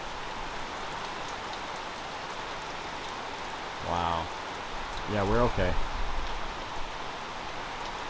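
Steady, heavy rain from a white squall roars over a boat in a constant wash of noise, with a couple of brief voices speaking up over the downpour.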